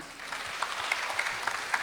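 Brief applause from the audience at a regional innovation forum welcoming the next presenter, a steady patter of clapping with a few sharper claps standing out.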